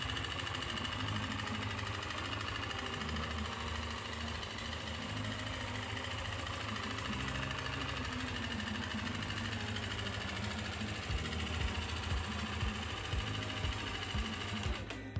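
A worn two-year-old Yamaha Aerox scooter engine running loudly with a steady, rattly buzzing drone that holds constant and close throughout, with no talk over it.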